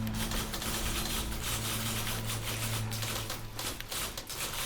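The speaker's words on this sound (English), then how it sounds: "Typewriters." Mechanical clacking of a typewriter runs steadily through the whole stretch, a dense rattle of keystrokes over a low steady hum, fairly close and even in loudness.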